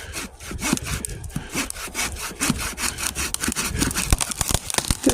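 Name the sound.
sawing through a tree trunk while camping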